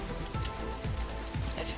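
Steady rain hisses across the whole clip in the video game Dig or Die, a dense patter on surfaces with a few soft low thumps, loud and continuous with no voices.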